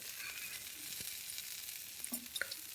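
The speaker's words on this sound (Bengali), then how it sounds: "এই যে কপি আর বিনসটা ভাজা হয়ে গেছে তারপর আমি গাজরগুলো আর কুমড়োটা দিয়ে দিলাম" Cabbage or cauliflower, beans, carrots and pumpkin fry in a pan, giving a soft, low sizzle with a few light stirring scrapes and taps near the end and no talking.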